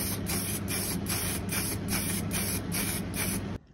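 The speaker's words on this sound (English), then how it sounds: "When using spray cans" A spray can applies super gloss white paint over primed armour parts in a series of short, even pulsed bursts of loud hiss, close up, ending abruptly.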